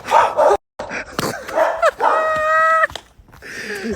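Dog barking up close: several sharp barks and yips, then a long whining whimper, with short gaps between bursts.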